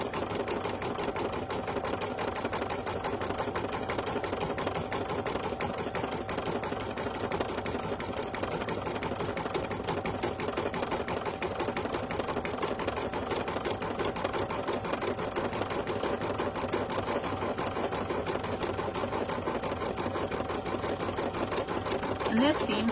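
An embroidery machine runs a satin stitch on an appliqué candy-wrapper design, a fast, even, continuous mechanical whir and needle chatter that stays steady throughout, with a voice talking over it.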